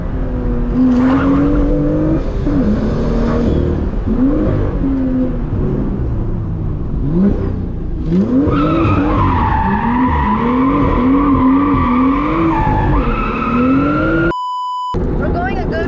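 A lowered, extreme low car cruises down a street at about 45 mph. The engine note rises and falls through the gears, with a short electronic beep near the end.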